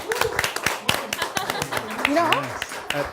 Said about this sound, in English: let's give you some claps for that